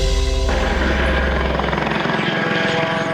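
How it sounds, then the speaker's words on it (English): A police search helicopter hovers over a Baltimore neighborhood, its steady rotor thrum loud and continuous, with a low throbbing tone that shifts partway through and no voices. "A police search helicopter scouring the skies"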